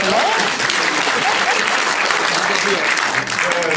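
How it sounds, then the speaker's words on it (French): Audience at a theatre performance of Clérembard applauding a young father, loud close clapping throughout with voices calling out over it. "Jeune papa, on peut l'applaudir"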